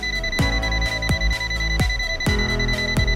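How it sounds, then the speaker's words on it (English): An ANENG ST183 clamp meter gives a rapid series of sharp electronic beeps while its non-contact voltage detector senses a live wire. About seven evenly spaced tones sound close and clear with no talk. "the sound when voltage is sensed"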